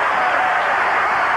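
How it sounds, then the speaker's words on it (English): A wrestling arena crowd cheers for Virgil in a brief, dense, steady roar of applause and shouting with no breaks. "this crowd's really behind Virgil"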